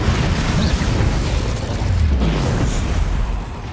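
Confringo and Bombarda spell explosions in Hogwarts Legacy combat merge into a dense, continuous roar of loud blasts and crackling bursts that barely lets up across the few seconds.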